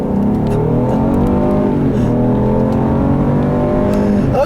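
A 2016 Lincoln MKX with the optional 2.7-liter EcoBoost V6 and front-wheel drive cruises along a back road, its engine holding a steady, smooth drone with road and tire noise and no talking.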